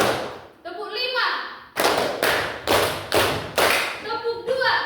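A teacher speaks, then a classroom of students responds with five loud, crisp unison handclaps in a steady rhythm, and the teacher's voice returns at the end.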